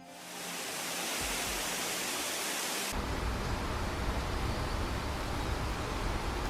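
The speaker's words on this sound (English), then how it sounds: "I want to add in an extra waterfall sound" Continuous rushing water roars at a steady level, a broad hiss of a waterfall sound effect that deepens and thickens partway through.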